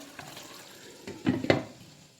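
Chicken for biryani stirred in a pot, a few scraping, sizzling clanks of the spoon against the metal, sparse at first and then two louder strokes close by.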